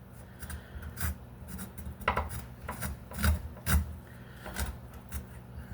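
A knife blade scraping upward along a surface while making pickles: close, rough rasping strokes repeated in an uneven rhythm, with no talking.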